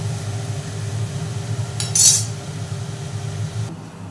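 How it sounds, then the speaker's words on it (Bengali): A utensil stirs frying vegetables in a pan for kachori, giving one brief bright metallic clink against the pan over a steady low kitchen hum. "এবার আমি এটাকে মিশিয়ে নেব, একটু ভাজা ভাজা করে"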